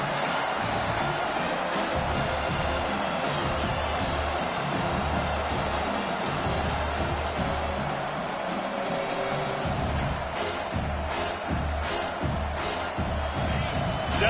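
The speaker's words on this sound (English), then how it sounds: "Decibels rising as the crowd gets behind this defense on third down." A large football stadium crowd roars in a sustained, loud swell behind the defense on third down during a Louisville college game, with scattered whoops and cheering rising over the steady din.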